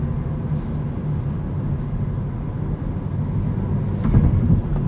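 A 2019 Hyundai Elantra GT N Line with a 6-speed manual drones steadily under way with low engine rumble, then a brief rev blip near the end as the driver matches revs on a downshift.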